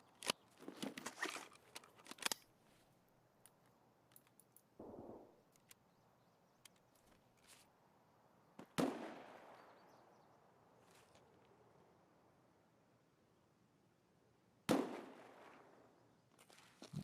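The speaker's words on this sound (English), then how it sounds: "Someone shooting at me?" Several sharp gunshots in the video game Escape from Tarkov, sounding distant: a quick burst at the start, then single cracks spaced several seconds apart, each with a lingering echo tail.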